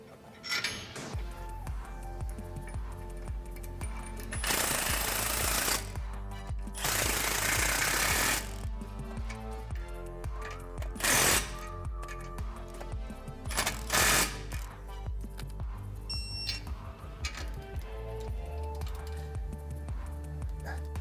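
A power tool, probably an impact wrench, tightens anti-wrap U-bolts on a 2010-2014 Ford F-150 Raptor suspension during a Rough Country 4.5-inch lift install. Several loud, rattling bursts of a few seconds each break up a quieter background hum.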